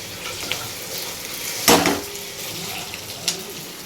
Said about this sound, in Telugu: ఇక రైస్ అయితే వేసుకుంటున్నాం.